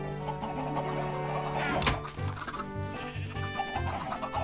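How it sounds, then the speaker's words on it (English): Chickens clucking in the Minecraft video game, a steady run of overlapping game-animal clucks and squawks heard up close with no talking, set over a continuous background of in-game sound. "I've got way too many chickens."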